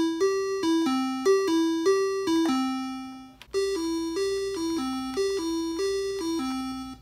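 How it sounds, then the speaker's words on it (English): Square-wave tones from a Moog Werkstatt analog synth and a Game Boy Advance play the same short stepping melody twice, bright buzzy notes in a steady rhythm, clean and alone. "Both the Werkstatt and the Game Boy Advance have the capability to generate square waves, which look like this and sound like this."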